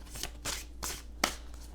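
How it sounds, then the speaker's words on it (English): Two tarot card decks that are awkward to handle are shuffled by hand, giving a handful of quick, crisp riffling bursts close to the listener, with no talking. "I picked two decks that are so awkward to shuffle."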